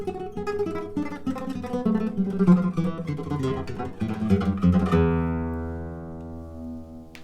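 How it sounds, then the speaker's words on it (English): Classical guitar plays a rapid tremolo etude in E Phrygian, a continuous stream of quick repeated plucked notes over moving bass lines, ending on a sustained ringing chord that slowly decays. "once you get it up to speed, it should sound something like this."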